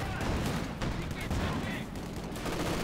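Rifle gunfire from riflemen in the strategy game Company of Heroes 2, steady crackling shots in a continuous dense battle din that runs the whole time.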